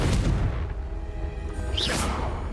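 Fiery Confringo spell blast in the Hogwarts Legacy video game: a loud booming burst with a rushing whoosh that rolls on, dense and sustained, with a rising swish near the end.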